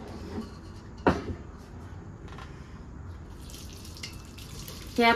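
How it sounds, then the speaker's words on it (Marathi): Water pours and trickles steadily through a strainer into a pot while draining cooked lemons for pickle, with a couple of sharp metallic clinks near the start and end. "ह्या पातेल्यावर पूर्णाची चाळणी ठेवते म्हणजे ह्यातून पाणी पूर्ण नितळेल."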